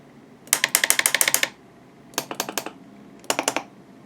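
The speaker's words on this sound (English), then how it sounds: "Clicking is the solenoids and the test switches for the triples." Solenoids and test switches in an RC warship model click in three rapid bursts of sharp, evenly spaced mechanical ticks, close and crisp against near silence.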